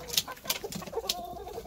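Backyard chickens cluck softly in short, irregular bursts, close by with faint farmyard background.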